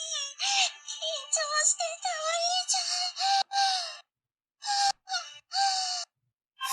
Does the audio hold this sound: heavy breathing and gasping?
yes